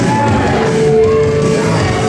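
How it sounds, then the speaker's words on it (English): A wrestling crowd at a Jake Andrews vs. Jake St. Patrick match roars in a loud, unbroken wall of jeering and shouting, dense and close, with no pause. "Listen to this crowd. They are not happy."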